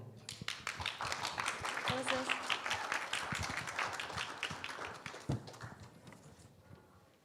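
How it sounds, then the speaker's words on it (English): Audience applause at a Red Cross event, a dense patter of clapping that holds steady for several seconds and fades near the end, with some voices mixed in. "So please, a warm welcome and round of applause for Anu."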